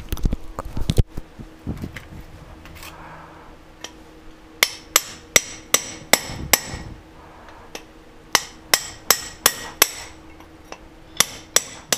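Steel hammer blows seating wheel studs into the hub of a 1996 Ford F250 4WD, a brief flurry early then sharp, ringing metallic strikes in steady clusters of three to five, loud and close with no talk.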